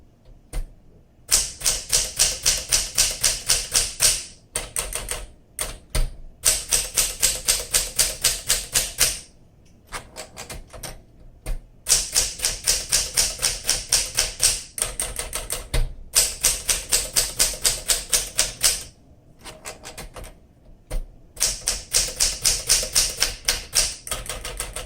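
Rapid keystrokes clack on a 1961 Smith Corona Sterling manual typewriter in seafoam green, bursts of close, crisp strikes in quick rhythm separated by short pauses and carriage stops.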